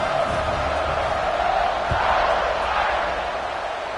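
A football stadium crowd in the NCAA 25 video game gives a steady, broad roar that swells slightly midway, continuous and loud throughout.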